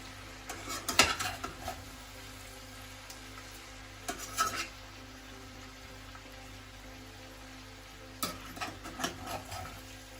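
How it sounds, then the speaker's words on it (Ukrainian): Potatoes sizzle steadily in a pan while a utensil scrapes and stirs them in a few short bursts against the metal. "наша картопля смажиться вже 10 хвилин під кришкою. І зараз ми її другий раз перемішаємо."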